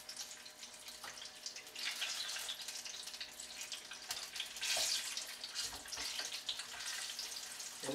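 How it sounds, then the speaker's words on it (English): Banana fritters sizzle in hot oil, a steady close hiss and crackle that swells at moments as the dough is pushed down, with no talking. "Maybe just push them down into the oil some."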